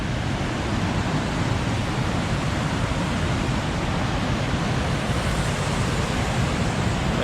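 Porter Creek in Capital State Forest, Washington, rushes in a loud, steady broadband roar of flowing water near the stream, unbroken and without talking.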